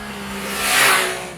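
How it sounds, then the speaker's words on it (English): An MV Agusta Brutale 800 motorcycle sweeps past, its exhaust swelling into a sharp rasping snarl that peaks briefly and fades, heard alone at moderate distance. "As for the exhaust, it gets a cleaner and sharper tone while retaining that signature MV rasp and snarl"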